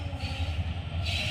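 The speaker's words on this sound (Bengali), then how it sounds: "অনেক সুন্দরভাবে ট্রেনটি পাসিং হচ্ছে।" A night train passes through a station on a curve, giving a brief, steady low rumble with faint rhythmic pulses and a hiss above it.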